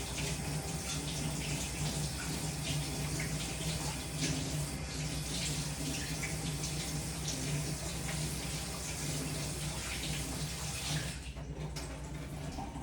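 Tap water runs steadily into a sink while small Roma tomatoes are washed. The gushing is loud and continuous and stays close throughout, with a slight change near the end.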